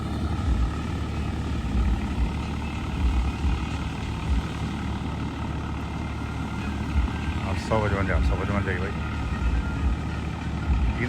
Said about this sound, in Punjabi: ਟਰੈਕਟਰ ਦਾ ਪਤਾ ਲੱਗਦਾ ਲੋਡ ਪਾ ਚੱਲ ਦਿੰਦਾ ਜਾਂ ਲੋਡ ਪੈਂਦਾ ਆਵਾਜ਼ ਕੱਢਦਾ